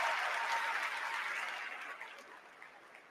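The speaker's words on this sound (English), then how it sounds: "Let's give Brian and Sandra another round of applause." A convention crowd at a Democratic National Convention applauds in a dense, steady wash that starts loud and gradually fades over a few seconds, with no voices on top.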